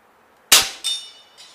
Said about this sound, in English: Go ahead, cock your gun.